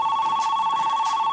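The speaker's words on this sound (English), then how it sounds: "answer the phone" A telephone rings with a loud, steady electronic trill that fills the moment up close, with no voices over it.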